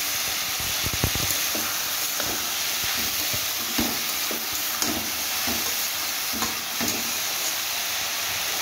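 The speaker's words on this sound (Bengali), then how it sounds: "এবারে গ্যাসের ফ্লেমটাকে হালকা করে দিয়ে 6-7 মিনিটের জন্য একটুখানি ভেজে দেবো" Taro stolons (kochur loti) fry in a pan over a lowered gas flame, giving a steady, fairly loud sizzle with soft stirring scrapes repeating every second or so and no voices.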